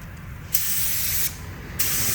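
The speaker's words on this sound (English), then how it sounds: "It's actually just a spray stain, we call it. A black spray undertoner." Black spray stain undertoner being sprayed onto wood for a wood-and-porcelain piece: three close, steady bursts of hissing spray, each starting abruptly, with brief quieter gaps between them and no talking.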